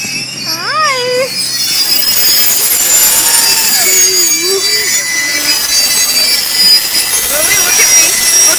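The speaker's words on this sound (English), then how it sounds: "That's a long train, huh?" A long train rolls past close by with a loud, continuous rumble and metallic screech of wheels, steady throughout, while people's voices talk over it.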